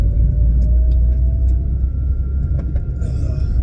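Small car cruising on a freeway at 100 amid traffic, a steady heavy low rumble of road and engine noise filling the cabin, continuous and fairly loud, with faint passing sounds near the end.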